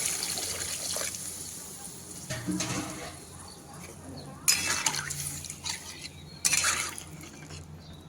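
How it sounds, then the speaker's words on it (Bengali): Water poured into a pan of taki fish curry for the gravy, a soft trickling splash near at hand with brief louder bursts and faint clinks of the pan. "এবার দিয়ে দেবো ঝোলের জন্য পরিমাণ মতো জল"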